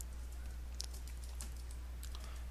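Fingers type Python code for a Fibonacci sequence program on a computer keyboard, a quick patter of light key clicks in close, irregular bursts over a steady low electrical hum.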